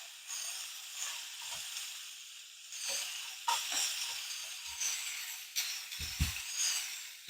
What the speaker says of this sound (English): I don't want to cook them, I just want to sear them.